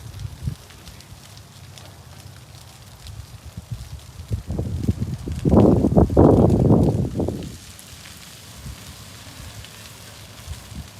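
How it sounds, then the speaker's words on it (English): Wind rushes outdoors at a dirt racing event, building to a loud gust in the middle before easing back to a low, steady breeze. "Pretty windy out here."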